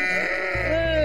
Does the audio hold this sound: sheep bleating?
yes